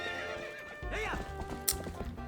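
In the video game Twilight Princess, the horse Epona gives a loud, close whinny that rises and falls, with clip-clop hoof sounds trotting underneath.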